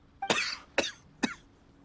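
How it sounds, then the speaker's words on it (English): A character coughing in the Genshin Impact video game, three sharp separate coughs in under two seconds, close and fairly loud with quiet gaps between. "I'm quite concerned with your cough"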